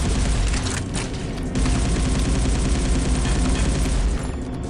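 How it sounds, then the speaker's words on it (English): Rapid gunfire in the shooter game SiN as civilians are gunned down, a loud sustained stream of shots with brief pauses and heavy low thumps, no voices. "I'm shooting civilians"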